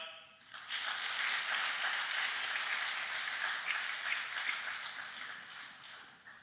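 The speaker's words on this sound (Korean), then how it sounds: "다 같이 인사할 때 큰 박수로 격려 부탁드립니다." A church congregation at a live-streamed Sunday worship service applauds newly introduced staff, a steady burst of clapping from a large crowd that swells quickly, holds for several seconds and then tapers off.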